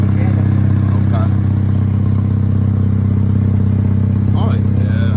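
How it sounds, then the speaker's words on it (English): A running vehicle engine with an exhaust leak idles steadily and close by in a mechanic's shop, a constant low rumble with a faint ticking clatter, while people talk over it. "So we got an exhaust leak that we're gonna fix right now."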